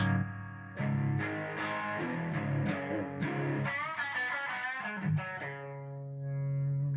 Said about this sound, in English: So it's not a big distortion pedal or anything, but it's just a little of extra drive